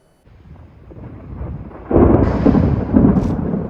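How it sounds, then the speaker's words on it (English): Thunder roars during a severe storm, a deep rumble that builds steadily and swells into a loud, sustained roll lasting several seconds. "Thunder roars through the streets."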